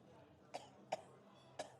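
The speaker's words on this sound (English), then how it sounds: "I'm glad that you're coughing over there, sir" A man coughs three separate times, each a short sharp burst spaced roughly half a second to a second apart, fairly faint and set back in a quiet room.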